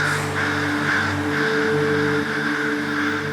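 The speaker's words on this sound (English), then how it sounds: "those birds will produce that harsh scold sound" Harsh, repeated scolding caws from crows, several rasping calls in a loose rhythm over a steady engine-like drone.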